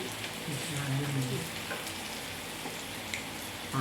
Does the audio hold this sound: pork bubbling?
yes